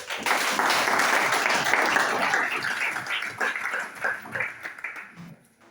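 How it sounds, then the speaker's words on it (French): A meeting audience breaks into loud, dense applause that holds steady for a few seconds, then thins into scattered claps and fades toward the end. "on acclame définitivement"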